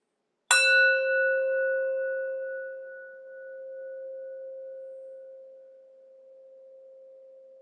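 A single meditation gong or bell struck once, a sharp metallic hit followed by a pure, sustained tone that slowly fades and rings on for several seconds in silence.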